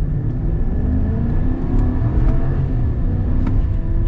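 A 2023 Chevy Silverado HD pickup with a 6.6L engine and 10-speed transmission accelerates hard, its deep, continuous engine rumble loud and close throughout with no talking.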